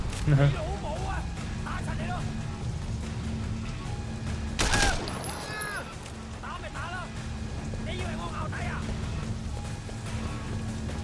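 Gunfire in the video game Sleeping Dogs, a dense burst of shots mixed into a busy action soundtrack, with someone talking over the continuous game noise.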